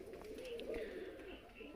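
Punjabi Malwai pigeons coo in a low, rolling murmur that rises and falls continuously, moderately close, with a few faint higher chirps over it and no talk.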